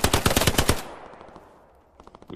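Rapid automatic gunfire in the video game Hell Let Loose, a close, loud burst of about a dozen shots that stops abruptly, then after a quiet pause another fainter burst begins.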